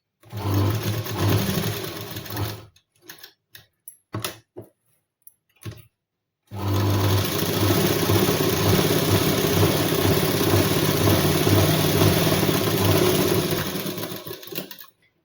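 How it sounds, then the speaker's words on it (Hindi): Sewing machine stitching a folded tuck on a blouse, a loud steady motor whir running about two and a half seconds, a gap with a few short bursts, then a long continuous run of stitching. "ये देखो फोल्ड करके यहाँ पे हम सिलाई मार लेंगे।"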